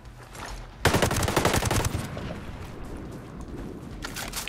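An MK48 Compact machine gun in Ghost Recon Breakpoint rips off a loud, sustained automatic burst, then the gunfire continues more sparsely and at lower level through the rest of the moment.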